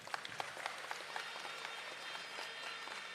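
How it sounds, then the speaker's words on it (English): Applause for graduating awardees at a Caribbean Maritime University graduation ceremony, a dense, sustained clapping from a large hall audience that carries evenly through the moment. "Round of applause again for them."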